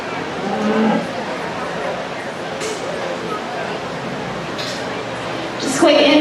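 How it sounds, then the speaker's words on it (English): Cattle at a county fair show ring, with a cow-calf pair class entering. A murmuring crowd and a public-address voice carry through an echoing arena, and a faint moo comes through near the end. "Now entering the ring is going to be our cow calf pair class, Rayleigh Woolman."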